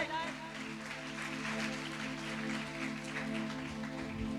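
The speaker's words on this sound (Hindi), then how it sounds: "ओ जोरदार ताली बजाएं।" A church congregation at a youth revival meeting applauds in a steady wash of handclaps, mixed with sustained musical tones and some voices.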